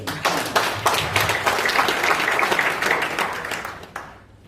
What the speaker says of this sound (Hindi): उनके लिए ताली बजनी चाहिए भाई